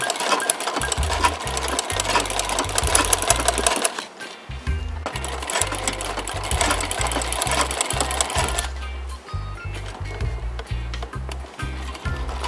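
A sewing machine embroiders a dress shirt with a Saltillo sarape design, loud rapid mechanical stitching in bursts separated by short pauses, running alone without talk.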